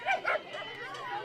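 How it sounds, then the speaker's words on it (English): Dogs on a softball field give two quick, close yelping barks at the start, then quieter whining follows, with a faint voice in the background. "As again, the dogs started invading"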